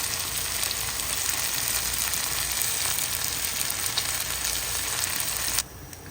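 Steady, loud sizzling of garlic, ginger and onion sautéing in a hot pan for chicken adobo, a dense continuous hiss up close that drops off suddenly near the end, with no talking.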